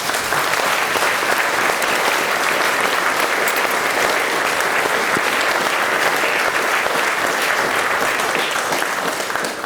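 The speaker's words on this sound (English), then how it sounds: "You can clap if you want." Sustained, dense applause from an audience at a memorial gathering in a creative centre, loud and steady throughout with no talk over it.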